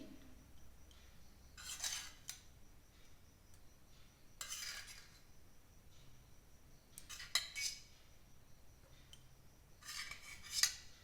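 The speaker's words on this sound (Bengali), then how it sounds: "দইটা আমি ভালো করে ফেটিয়ে নেবো" Yogurt is whisked in a bowl for a cake batter, with a utensil scraping and clinking against the bowl in short bursts spaced a few seconds apart, close but fairly soft, with no talking.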